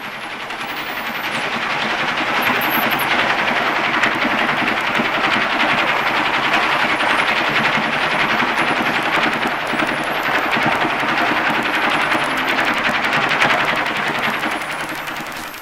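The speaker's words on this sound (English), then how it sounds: "This is an underwater recording of a trawler moving through the estuary." Underwater recording of a trawler moving through an estuary: a steady, dense mechanical churn and hum that holds at constant loudness throughout, with faint high chirps above it.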